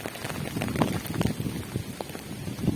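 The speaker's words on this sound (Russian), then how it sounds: "сейчас нормальненько, обычный осенний дождь" Autumn rain pattering steadily on an umbrella overhead, a close, irregular patter of drops with soft splashes throughout, no voices.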